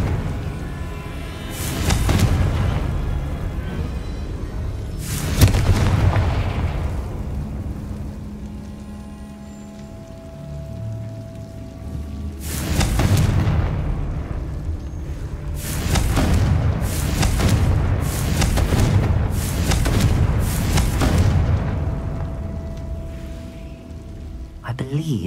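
Confringo blasting spells explode in Hogwarts Legacy, a series of loud, sharp booms around 2, 5, 13 and 16–21 seconds under a spoken incantation and background combat noise.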